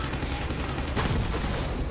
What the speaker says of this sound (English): My gun blows up.